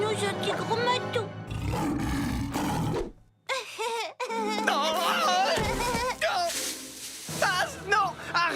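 A big cat roars in a cartoon, with loud, growling bursts and snarls mixed in with dramatic music and voices speaking French, and a short lull in the middle.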